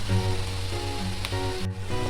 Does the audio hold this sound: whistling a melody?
no